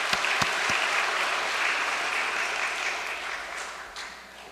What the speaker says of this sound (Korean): 성가대와 훈독한 이 한 가정에 뜨거운 감사의 박수 해주면 감사하겠습니다